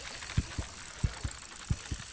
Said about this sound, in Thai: อุ้ยทำไมหัวใจเต้นงั้นอ่ะโอ้ย